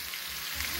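Bone-in pork leg frying in a pan on a home stove, giving a steady, close sizzle with no break across a brief moment and no talking over it.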